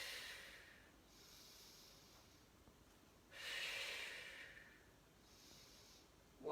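During a resistance band exercise, one person breathes audibly in soft, airy hisses, with a louder exhale near the middle, close by and quiet, with no talking.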